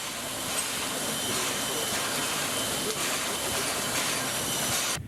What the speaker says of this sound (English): At El Llano, the train stops for water before proceeding south.